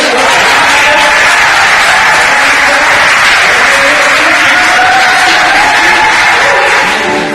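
Church congregation applauding Jesus, a loud sustained roar of clapping with cheering voices and sung tones woven through, continuous and full for the whole stretch.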